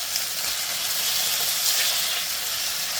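Diced beef with extra cod fat searing in a hot pan gives a steady, dense sizzle and crackle, loud and close, without letting up.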